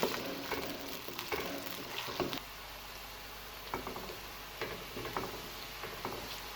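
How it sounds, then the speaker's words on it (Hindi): Chopped onions fry in a pan with a soft, steady sizzle, turned now and then with a spoon that taps and scrapes in light irregular clicks while they cook to golden brown. "प्याज को हम गोल्डन ब्राउन होने तक पकाएंगे।"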